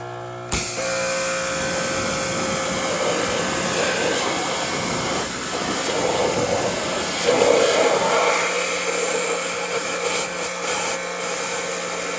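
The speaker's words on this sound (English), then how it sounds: "Me and my man here is about to pressure wash it" A pressure washer blasts steadily at close range against an old, rusty, grimy 289 small-block Ford engine, its loud continuous hiss running throughout with slight surges as the spray moves.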